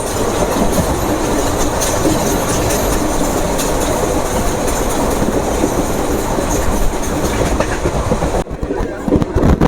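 Train 13028 Howrah Kaviguru Express slowly entering Rampurhat Junction, heard from on board: a loud, continuous rumble with rhythmic clickety-clack of wheels on rail joints and a brief dip near the end.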